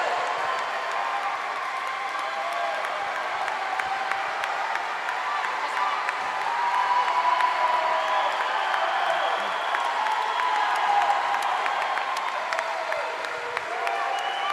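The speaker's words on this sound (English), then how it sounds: "Keep cheering, folks." Spectators at a Warrior Games swimming race in an indoor pool hall keep up steady applause and cheering, a sustained roomy wash of clapping and crowd noise at moderate level.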